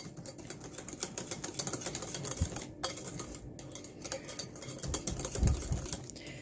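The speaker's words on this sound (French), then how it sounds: "Je vais mélanger cette fois-ci au fouet." Cake batter for a cocoa cake is whisked by hand after milk goes in, a dense, fast patter of wire whisk strokes clicking against the bowl, close and continuous with no voices.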